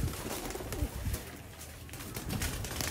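Mixed-breed flying pigeons coo in repeated soft, throaty calls, close by and overlapping, against a faint background rustle.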